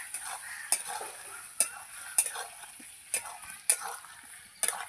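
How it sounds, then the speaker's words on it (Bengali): Potatoes being stirred with chicken stomach in a pan, soft sizzling under a series of sharp spatula scrapes and taps against the pan, about six evenly spaced strokes, close and fairly quiet. "এই যে নাড়াচাড়া করব ভালো করে।"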